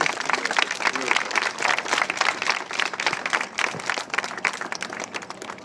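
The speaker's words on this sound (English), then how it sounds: "I think they deserve applause" Wedding guests clap and applaud at a reception, a dense, steady patter of many hands close by, with voices and murmurs mixed in throughout.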